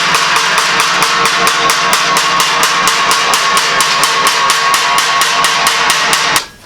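A hammer strikes sheet metal, working it into a bend for a Model A hot rod shop truck roof. The blows come in a fast, even, loud run of ringing metallic hits close by, then stop abruptly.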